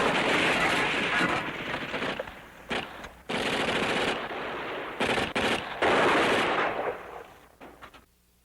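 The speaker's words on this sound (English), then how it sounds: "The Kraut's got a line on them with their machine gun." Machine gun fire in a war movie battle scene, long loud bursts of rapid automatic shots broken by brief gaps, fading out near the end.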